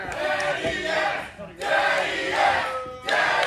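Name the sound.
wrestling crowd chanting in arena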